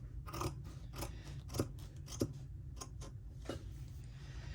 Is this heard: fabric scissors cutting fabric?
yes